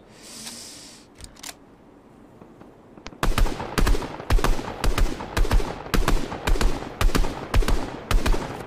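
Gunfire in the video game Fortnite: after a few scattered sharp cracks, a steady run of evenly spaced shots rings out at a quick, regular rhythm, fairly loud and alone.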